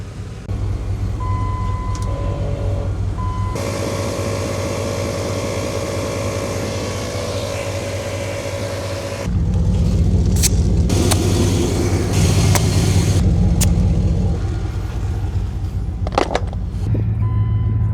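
An overland vehicle pulls onto pavement after a desert trail, a steady engine drone with a whining tone that shifts into louder, rougher road and engine noise with scattered clicks and knocks.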